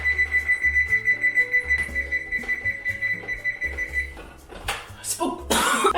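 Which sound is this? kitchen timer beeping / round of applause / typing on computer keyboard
kitchen timer beeping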